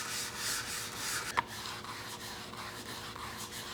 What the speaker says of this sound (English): Darius has got the orbital sander with the interface pad, foam pad